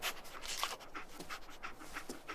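In Fallout 4, the companion dog Dogmeat pants quickly and rhythmically with steady breathy huffs, close and fairly soft, with no talking.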